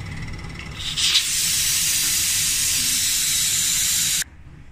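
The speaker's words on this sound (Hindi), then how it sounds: "अब सीटी उठा देते हैं कि जितनी भी इसके अंदर भाप वगैरह सारी निकल जाए।" Steam hisses hard from a pressure cooker after its whistle weight is lifted while cooking meat, a loud, close, continuous spray that swells after a brief sputter and then cuts off abruptly.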